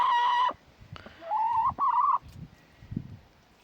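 Hens in a winter coop give loud, drawn-out tonal calls close by, two long wavering cries followed by softer scratchy shuffling and low clucks.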